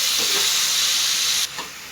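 Tomatoes for thakkali thokku sauté in a pan with a loud, steady steamy hiss that cuts off abruptly, followed by a brief stir and a quieter sizzle.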